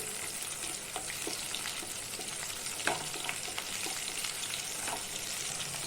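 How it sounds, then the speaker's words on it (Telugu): Green chillies fry in a pan with a soft, steady sizzle and scattered small pops and crackles, quiet and close, with no voices. "ఇదిగోండి పచ్చిమిర్చి వేగిపోయినాయి."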